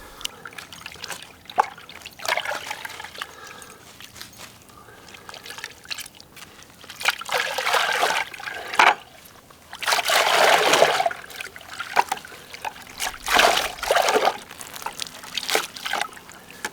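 Bark tanning liquor and dirt drain and drip from a wet animal fur pelt, with irregular trickles and splattering bursts swelling and fading, several louder gushes as the pelt is squeezed, close by.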